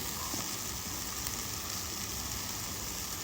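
Ground spices hiss and sizzle steadily in hot oil while being fried and stirred for a mola fish curry, a continuous close crackling hiss with no talking.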